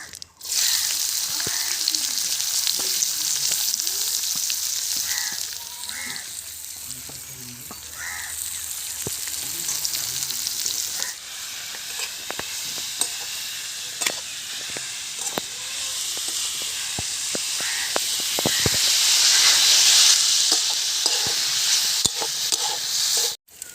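Chopped onions fry in mustard oil in a hot wok, a steady bright sizzle with occasional stirring scrapes, while crows caw faintly outdoors and a voice murmurs now and then.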